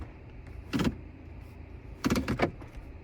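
Power door locks on a 2024 Chevy Malibu LT rental car, heard up close in a quiet cabin: a single sharp actuator clunk, then a quick cluster of two or three clunks about a second later.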